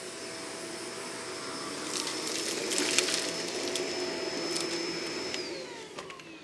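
A Shark DuoClean vacuum head is pushed backward across carpet, its motor a steady whirring hum with a faint rising whine and scraping brush noise that swells midway and then eases off. The sound is close and carries no voices.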